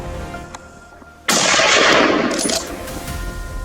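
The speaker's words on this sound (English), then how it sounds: "Leon quietly raised his rifle, tracking every step it took and squeezed the trigger." Rifle fired at a wild boar during a hunt, one sudden loud blast after a quiet outdoor hum, its roar ringing on and slowly easing away.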